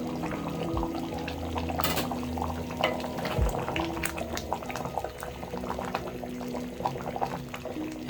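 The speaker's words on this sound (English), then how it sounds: "I'm going to let this simmer for about 3 minutes and our stew will be ready" A potato and pea stew (minji stew) simmers in a pot with a continuous bubbling, gurgling burble and soft plops, close and moderately quiet, with no one speaking.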